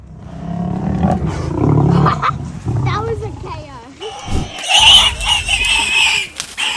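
Lions roar and snarl while attacking a buffalo, loud close growls rising and falling in bursts, with a sharp higher cry near the end amid the commotion.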